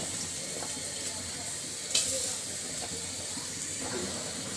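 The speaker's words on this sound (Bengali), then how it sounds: "তো কড়ার ভিতর দিয়ে দিচ্ছি শাক ভাজির জন্য পেঁয়াজ মরিচ" Onion and chili frying in a wok for a leafy greens stir-fry, a steady close sizzle with faint scraping stirs and a brief louder splash of hiss midway.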